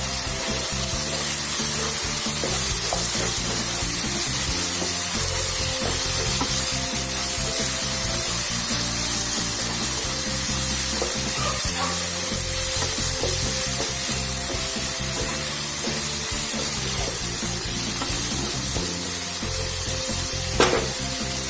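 A garlicky spice paste sizzles and fries in a pan with fried garlic while being stirred for Bihari-style chicken lasooni, a dense, steady crackle close up with occasional scraping clinks throughout, no voices.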